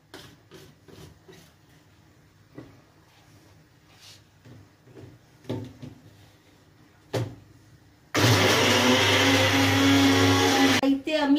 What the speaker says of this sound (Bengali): পেঁয়াজ, রসুন, আদা দিয়ে এটাকে মিক্সারে পিষবেন।